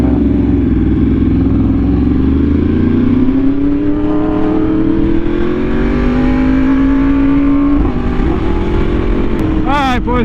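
A Yamaha R1M superbike fitted with an SC Project exhaust screams at high speed, its loud, continuous engine note rising steadily in pitch under heavy wind roar, with a brief gear-change dip near the end.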